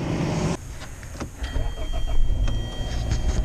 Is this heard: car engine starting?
yes